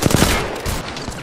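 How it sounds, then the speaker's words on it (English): Rapid gunfire bursts crack out in an Apex Legends firefight, a short loud volley of several shots in quick succession with no talking. "I'm taking fire."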